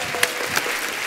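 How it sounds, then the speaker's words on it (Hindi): A studio audience on The Kapil Sharma Show claps steadily for guest Salman Ali, a short continuous burst of applause with a couple of sharper claps standing out. "जोरदार तालियां सलमान के लिए।"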